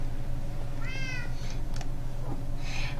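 Cats meowing in the Minecraft video game, with two clear meows about a second and a half apart over a steady low hum.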